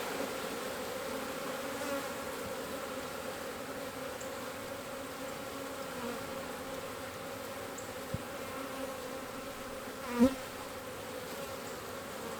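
Honey bees swarm around an opened Apimaye hive during a split, giving a continuous, fairly close buzzing drone with a couple of brief knocks near the end.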